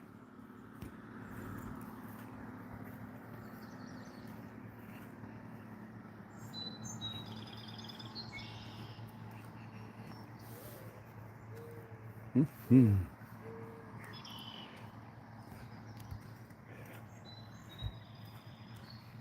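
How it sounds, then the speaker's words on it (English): Small birds chirp and tweet outdoors in short, sparse bursts at a moderate distance. A steady background hum runs underneath, and there is a brief vocal murmur and one louder thump partway through. "Just listen to the birds chirping."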